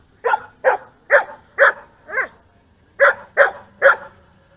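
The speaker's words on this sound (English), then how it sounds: "Start barking again. God damn, he's loud." A dog barks loudly and close by in short sharp yaps: five in a steady rhythm, a brief pause, then three more.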